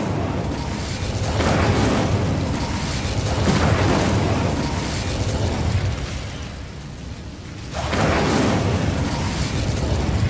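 Fiery bursts from the Incendio spell cast repeatedly in Hogwarts Legacy, loud whooshing blasts rising around two, four and eight seconds over a continuous rumbling game soundscape.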